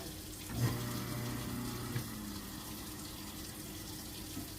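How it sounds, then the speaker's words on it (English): A garbage disposal runs in a kitchen sink with a steady low grinding hum and water noise, fairly quiet, continuing alone without speech across the clip. "I'm going to clean out my sink and run the garbage disposal."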